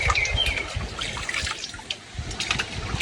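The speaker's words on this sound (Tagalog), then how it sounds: "Pero kusog ang bulog sa tubig." Cold fresh spring water flows strongly in a forest, a steady loud gush and splash close by with bird calls faintly behind it.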